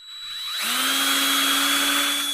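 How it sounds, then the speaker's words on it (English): A handheld drill with a small bit bores into the plastic housing of a 13-inch Home Depot LED bulb, its motor spinning up to a close, steady high whine. "And then I'm going to take a drill with a bit."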